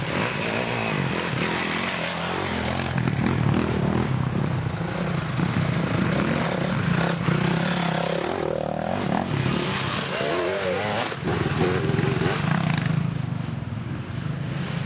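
Motorcycles at a charity toy run ride past in a steady stream, their engines droning loud and close throughout with rising and falling revs as each bike passes.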